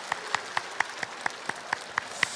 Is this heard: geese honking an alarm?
no